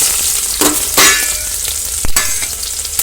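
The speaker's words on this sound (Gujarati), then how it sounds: "તેલ તપી જાય એટલે એમાં ડુંગળીનો વઘાર કરવો." Sliced onion hits hot oil with half a spoon of ghee for a masala khichdi tempering, giving a loud, close sizzle with bursts of crackling and stirring scrapes.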